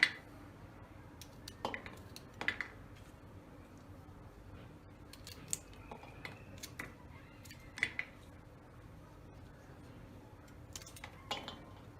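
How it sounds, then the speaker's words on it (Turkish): Quiet, sparse knife taps on a cutting board as green beans are chopped, irregular single chops spaced apart over a soft background hum. "Ben fasulyelerimi böyle doğrayacağım."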